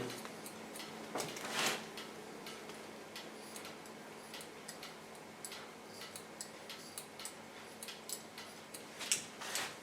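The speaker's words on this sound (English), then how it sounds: "Slice cut only with the tip of my scissor." Soft, repeated snips of scissors slice-cutting hair with only the blade tips during a short haircut, light irregular clicks over a steady room hiss.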